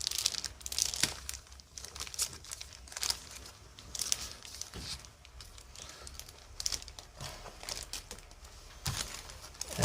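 A plastic bag holding Airfix Avro Vulcan model kit frames is cut and handled up close, giving quiet, repeated crinkling and tearing rustles in uneven bursts.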